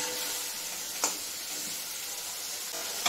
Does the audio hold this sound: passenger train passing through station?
no